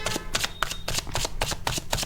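Tarot cards being shuffled by hand for a reading, a close run of quick, evenly spaced riffling flicks and slaps that continues without a break and with no talk.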